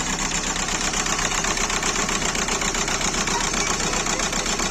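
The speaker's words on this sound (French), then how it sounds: "vous voyez le moteur comment il vibre" A Volkswagen Golf 4 TDI diesel with a faulty injector idles roughly, a loud, close, continuous rattling clatter with a fast even pulse and heavy vibration, running alone without voices.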